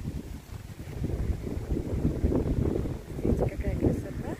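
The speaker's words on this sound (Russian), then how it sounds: "какой ветер у нас." Strong wind buffets the microphone with a low, rumbling roar that swells and eases throughout.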